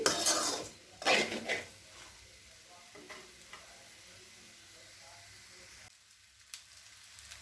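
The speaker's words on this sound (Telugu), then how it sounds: "ఇవన్నీ కూడా ఇలా వేయించేసి మీడియంలో పెట్టుకొని స్టవ్ వేయించండి" Meal maker soya chunks frying over medium heat with salt and spices, with loud scraping and stirring clatter in the pan at first, then a quiet steady sizzle and an occasional clink.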